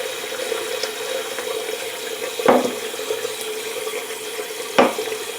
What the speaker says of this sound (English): going to fill the sink with a little bit of water